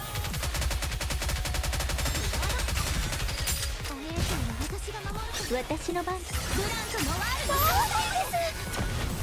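Rapid gunfire from a cover gun in the game Nikke rattles on continuously, dense bursts layered with game effects and sharp impact zips, while a voice talks over the battle.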